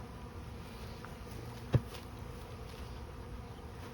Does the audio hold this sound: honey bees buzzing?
yes